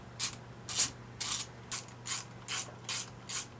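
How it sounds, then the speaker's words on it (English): A 3/8 ratchet clicks close up in about eight quick bursts while bolts come out of the housing on an Evinrude 75hp outboard motor. Short pauses separate the bursts, with a faint steady hum underneath. "So 3/8, take all 4 bolts out, and then we'll pull the entire housing up"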